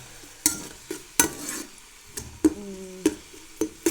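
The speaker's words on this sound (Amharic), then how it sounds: "ዘይቱ ከጋለ በኋላ ሽንኩርቱን ጨመርኩበት።" Onions fry in hot oil with a quiet background sizzle, broken by sharp, regular clacks and scrapes of a spoon against the pan, and a short tonal ring appears partway through.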